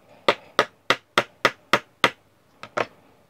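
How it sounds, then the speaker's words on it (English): A repair tool is hammered onto a Tamiya Mini 4WD propeller shaft: seven sharp, evenly spaced metallic taps, a pause, then a softer tap and a quick double hit, close and clear. "I'm going to keep hammering it up until there's a lot more of the shaft showing"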